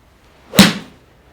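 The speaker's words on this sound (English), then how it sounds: "Immediately, the compression on the ball, you can hear it, like you said, you can hear the difference." A golf club strikes the ball during a power drill on the range, one sharp crisp impact near the start followed by a short ringing decay, with no talking.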